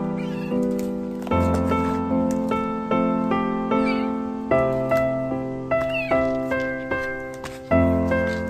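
A distressed kitten, exhausted after being stuck on a glue board, meows repeatedly and loudly at close range, roughly ten drawn-out cries in a steady series with no talking.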